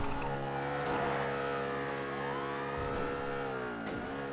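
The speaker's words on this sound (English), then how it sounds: "The car sounds like shit." A car engine in Grand Theft Auto V drives at steady revs, with a sustained harmonic drone and a few pitch dips and swells like shifting gears, loud and continuous with no talk.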